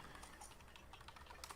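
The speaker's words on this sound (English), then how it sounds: "Typing now." Quick, irregular keystrokes tapping on a computer keyboard at moderate distance, a faint, busy clatter of clicks with no voice over it.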